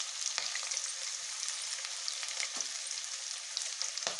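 Green chilli and onion frying in a pan, a soft continuous hiss of sizzling oil with a few faint crackles and light stirring taps, close and fairly quiet.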